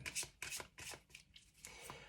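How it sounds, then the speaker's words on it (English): Tarot cards shuffled by hand in a quiet room, a series of about six crisp riffling bursts in a quick rhythm, close and soft. "so I'm gonna shuffle again"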